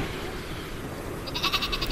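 Bleating from the sheep weapon in the Worms video game: a short run of nasal, pulsing bleats rises near the end over steady background game noise.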